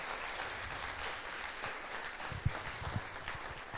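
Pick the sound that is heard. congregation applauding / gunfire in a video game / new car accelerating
congregation applauding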